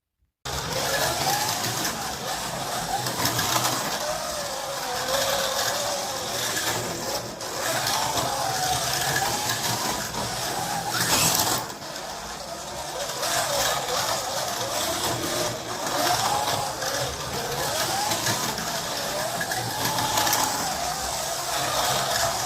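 BRM 1/24 scale BMW 2002 slot cars run continuously around a track, a steady high-pitched electric motor whine with a brief dip partway through.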